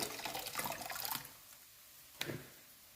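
Running water gushes briefly over mushrooms being washed and then tapers off, followed by a single short splash, fairly quiet and close.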